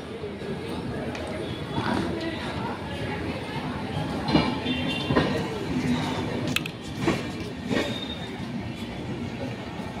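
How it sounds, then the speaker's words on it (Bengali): The Patna Howrah Jan Shatabdi Express stands at platform 4 of a busy station, its steady rumble mixed with scattered clanks and sharp knocks, while people talk nearby throughout. "এখন এসছে পাটনা হাওড়া জনশতাব্দী এক্সপ্রেস, এখানে আছে 4 নম্বরে দাঁড়িয়ে"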